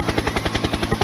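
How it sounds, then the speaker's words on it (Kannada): A helicopter arrives in a Kannada film scene, its rotor chopping in a fast, steady, loud pulse that fills the whole moment, with no voices over it. "ನೆಕ್ಸ್ಟ್ ಬಹಳ ಕೆಟ್ಟ ಗ್ರಾಫಿಕ್ಸ್ ಇಂದ ಮಾಡ್ರ ಅಂತ ಒಂದ್ ಹೆಲಿಕಾಪ್ಟರ್ ಬರ್ತತಿ"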